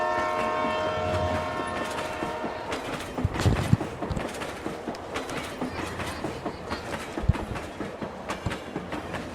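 A train rolls past with steady clickety-clack wheel clatter over the rails and a few sharp horn blasts, loud and close, with no talk over it.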